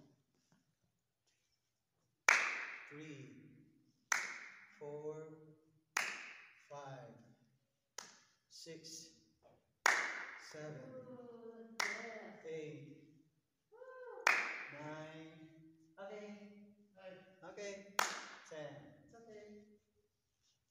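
Sharp hand claps in a children's PE tossing-and-catching exercise, about nine evenly spaced crisp claps, each followed closely by a voice counting aloud, moderately loud and near.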